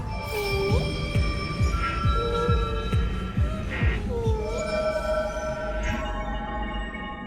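Rhythmic low thumping heartbeat sound effect during a boss fight in the Honkai: Star Rail video game, a steady run of beats under droning hum and sustained musical tones, no talk.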